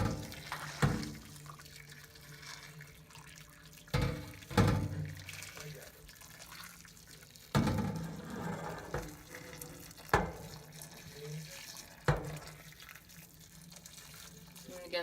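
Tap water runs into a sink to rinse oxtail for a Jamaican-style dish, a steady splashing flow with louder bursts every few seconds as the meat is handled, with some speech over it.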